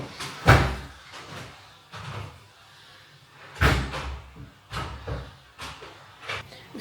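Several loud, sharp knocks or bangs on a door at irregular intervals, some in quick pairs, with quieter thuds between them.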